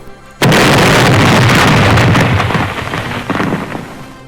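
The explosion of the planet Krypton as a sound effect: a sudden, very loud blast erupts after a brief quiet moment, then rolls on as a heavy rumbling roar that slowly fades with crackling debris.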